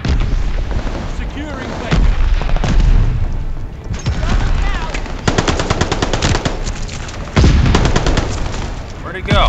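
Call of Duty: Vanguard combat under a mortar barrage, with continuous loud automatic fire and heavy booms over nearly ten seconds. Intensity surges in waves, and a voice speaks briefly partway through.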